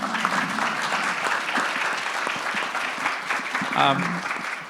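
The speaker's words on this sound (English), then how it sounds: "please, a round for applause for our panel" Audience applause for a panel at the close of a community conversation series event on mass shootings, a steady dense clapping that fills the room throughout, with a brief voice rising near the end.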